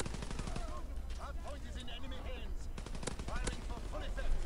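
Rapid gunfire bursts and pistol shots in a WW2 multiplayer shooter game, with dense repeated cracks and explosions under continuous game noise and some talking.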